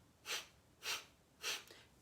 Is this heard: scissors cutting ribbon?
no